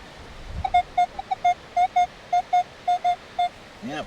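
A metal detector sweeping over a dug hole while hunting silver coins gives a run of about a dozen short, clear, evenly pitched beeps in quick rhythmic bursts, loud and close over faint background hiss.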